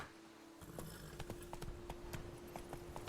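Hooves of the horse Roach in The Witcher 3: Blood and Wine clip-clop in a steady, fairly rapid rhythm over a constant background drone, close and alone.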